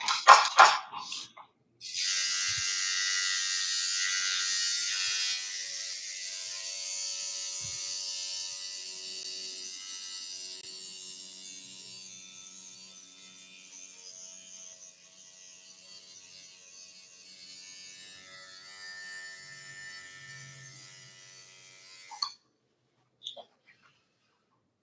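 A new coil tattoo machine running, a loud steady electric buzz that holds for about twenty seconds, gradually easing slightly, then cuts off, with brief bumps and handling noises around it.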